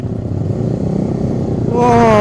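A big motorcycle passes on a night road to Puncak Bogor, its engine rising to a louder, revving whine near the end over steady road rumble.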